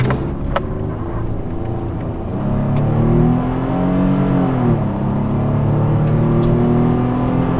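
Nissan Frontier Nismo pickup exhaust droning steadily during a test drive, its engine note climbing and falling through several revs with a rising pitch, loud and continuous with no talk.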